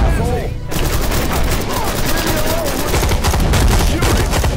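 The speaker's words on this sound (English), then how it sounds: "The Harding Museum is in a firefight with suspected terrorists." Dense rapid gunfire crackles throughout a video game firefight at a museum with suspected terrorists, loud and continuous with a brief dip near the start, bursts overlapping with scattered voices.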